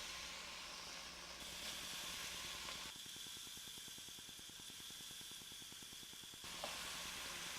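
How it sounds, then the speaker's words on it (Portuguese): Steady loud hiss and sizzle of halved tomatoes laid face-down in a very hot frying pan, continuous close frying noise with no talking. "A frigideira está bem quente e aí a gente vai colocando os tomatinhos"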